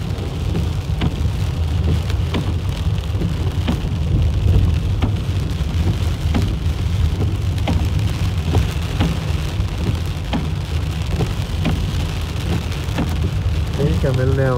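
Heavy rain pours steadily on a car while driving, a dense continuous hiss with scattered sharp drop impacts throughout, loud and close, with a faint voice near the end.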